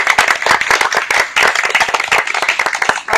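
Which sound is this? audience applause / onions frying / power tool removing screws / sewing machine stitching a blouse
audience applause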